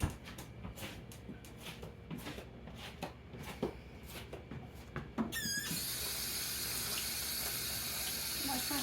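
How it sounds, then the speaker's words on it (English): A kitchen tap is turned on for hand washing, and after a few seconds of light clatter the water rushes steadily and fairly loudly until the end. "wash my hands"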